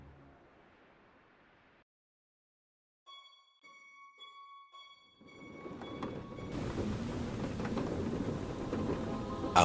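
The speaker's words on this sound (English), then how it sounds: "Outside, the storm raged" Storm in the VR puzzle game A Fisherman's Tale, starting quiet with faint tones, then building into loud, dense rushing rain and rumble that swells toward the end.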